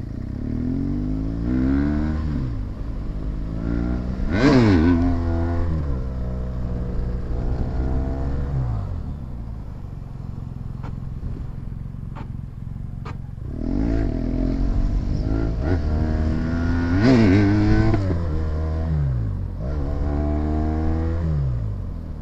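A BMW motorcycle engine idles and is revved repeatedly, with rising and falling pitch sweeps in two bursts around a steadier idle stretch, loud and close, with light clicks in between.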